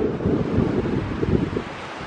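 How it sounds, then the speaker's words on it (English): Strong wind at a beach buffeting the microphone, a steady low rumbling roar with no voices over it. "I know, it's windy. Whew. It might be too much wind."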